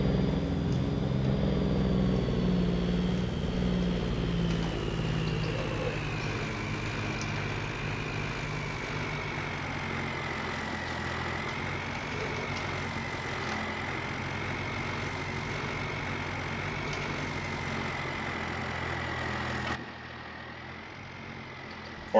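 A farm vehicle's engine drones steadily while moving a round bale trailer, a continuous close hum with a rising and falling whine that drops off sharply near the end.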